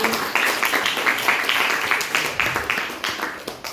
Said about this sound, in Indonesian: Oke, tepuk tangan buat sendiri.